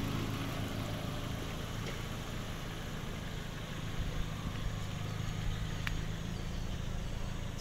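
A Ford Focus 1.4 petrol engine idling, heard as a steady, quiet low rumble with an even hum throughout and no talking over it.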